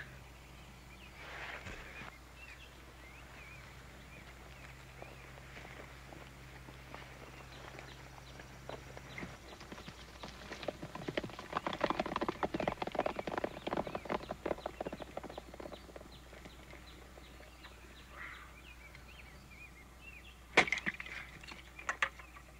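Clip-clop of horse hooves on hard ground, building to a busy patter in the middle and then fading as the horses move off.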